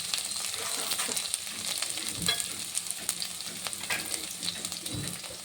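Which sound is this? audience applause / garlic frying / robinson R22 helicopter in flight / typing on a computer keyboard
garlic frying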